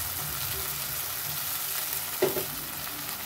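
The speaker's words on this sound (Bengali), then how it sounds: "পেঁয়াজটা একটু লাল করে ভাজা হয়ে গেছে। এর ভিতরে একটু পানি দিয়ে দেব।" Chopped onions frying in oil in a pan, a steady close sizzle with occasional stirring and one brief clack of a spoon against the pan.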